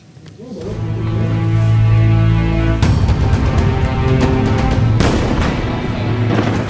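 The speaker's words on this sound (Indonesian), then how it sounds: "Rekaman video menunjukkan ledakan dan kepulan asap tebal yang membumbung di atas Nabateh dan kota-kota sekitarnya setelah serangan tersebut" Explosions from Israeli air strikes on Nabatieh in southern Lebanon: a sustained rumbling barrage with a sharp blast about midway and another near the end, loud and continuous, with a steady tonal hum running underneath.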